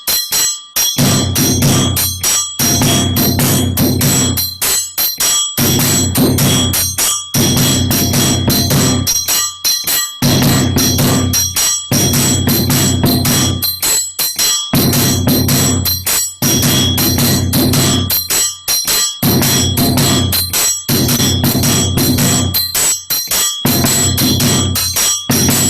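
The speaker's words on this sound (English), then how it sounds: "And the drum goes like this." Djembe beats in a repeating rhythm, alternating short and long phrases, played loud and close over a continuous bright bell pattern.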